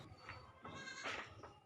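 Goats bleat at a livestock market, several overlapping calls rising and falling across a short stretch amid crowd murmur, fairly close but moderate in level.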